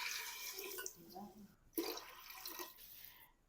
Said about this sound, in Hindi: मसर शामिल करने के बाद अब मैं इसमें पानी डाल दूंगा।